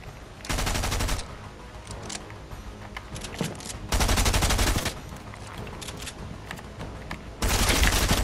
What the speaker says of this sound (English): Oh crap, I'm getting shot at again.